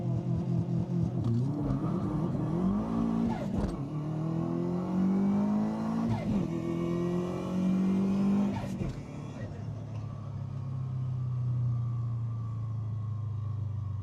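Subaru WRX engine revving repeatedly toward 5,000 RPM, pitch climbing and dropping in several swells before settling into a lower idle hum, heard from inside the car under muffled talk.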